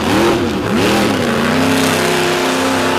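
The Tailgater monster truck revs hard while digging out of beach sand at a show, a loud, continuous engine roar whose pitch dips and climbs with throttle surges, then holds a steady strained drone.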